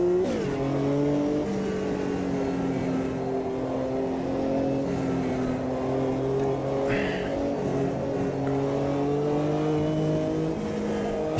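A race car engine holds a steady, droning note as it laps a track in Automobilista 2, with a Ferrari 512 BB LM or a GTO-class car. The pitch rises and falls gently through gear changes, loud and continuous with no speech.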